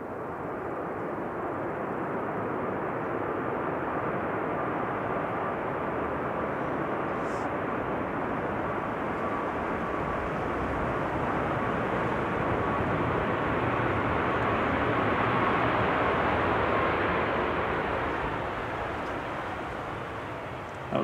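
A SmartLynx Malta airliner flying for TUI lands at Manchester Airport, its broad jet roar swelling and peaking loudly near the end, alone without talk.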